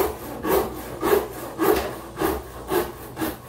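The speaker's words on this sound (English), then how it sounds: "I like to use the more aggressive side of the rasp and just go in and start digging out this stuff." Coarse wood rasp strokes on a quilted maple Telecaster guitar neck, six even rhythmic scraping passes about half a second apart, close and clear with no talk.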